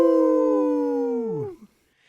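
A person's voice imitates a werewolf howl: one sustained, loud wavering howl that holds steady, then slides downward and breaks off, alone with no other sound.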